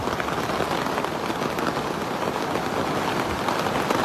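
Heavy rain pours down in Dubai, a dense, steady hiss of water on surfaces that stays loud and unbroken throughout.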